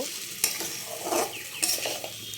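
Tomato chutney with cardamom and dates being stirred in a pan, soft sizzling under a few distinct scraping strokes of a spoon, close and moderately loud.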